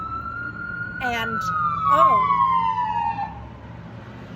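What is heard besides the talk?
fire truck siren passing near the hospital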